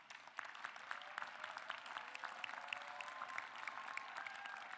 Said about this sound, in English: please stand up so you can give them your applause